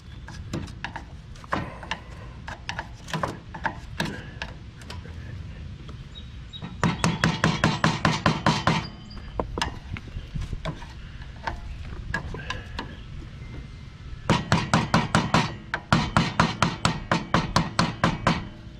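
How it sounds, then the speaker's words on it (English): A worn upper king pin bushing on a Troy-Bilt Pony lawn tractor is driven out with sharp metallic hammer strikes, loud and close, coming in scattered single blows and two fast rapid-fire bursts. "So now we'll just go ahead and pop the upper bushing out."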